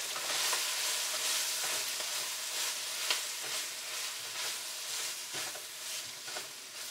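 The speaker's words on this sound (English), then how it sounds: "So we'll stir fry this a little bit." Sri Lankan noodles and vegetables stir-fried in a hot pan, a steady loud sizzle with repeated scraping and tossing strokes of a utensil, no talk.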